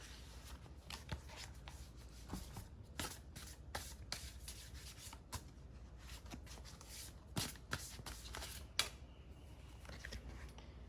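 Spirit animal oracle cards shuffled by hand for several seconds, a close, soft stream of rubbing, riffling and sliding card sounds with scattered sharper snaps, and no talking.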